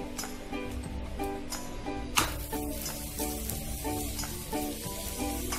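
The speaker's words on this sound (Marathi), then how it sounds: "तवा गरम झाल्यानंतर मी पराठा टाकलेला आहे." Methi paratha frying in a little oil on a hot tawa gives a steady, close sizzle throughout, joined by a few light clinks and scraping taps of a utensil against the pan.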